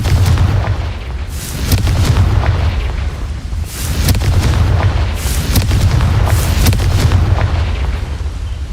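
Repeated fiery blasts from the Confringo fire spell in Hogwarts Legacy burst out one after another, several loud booms landing over a constant low rumble of game background sound.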